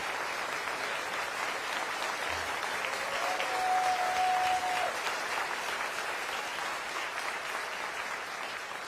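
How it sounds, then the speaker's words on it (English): Steady sustained applause from an audience at the 2025 State of Milwaukee County address, congratulating an honoree named Justin; broad dense clapping continues evenly throughout with a brief tonal whine partway through. "Can we please give him a round of applause and say congratulations to Justin?"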